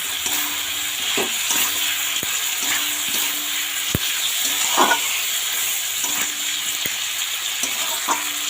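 Chicken sizzles steadily in a hot pan, with occasional sharp clicks and scrapes of stirring.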